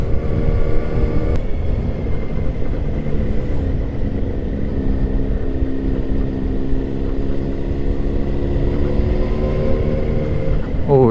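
Steady engine drone and rumble from a Yamaha FZ1N motorcycle on the move, holding a fairly constant pitch with a slight rise near the end, loud and close throughout with no talking.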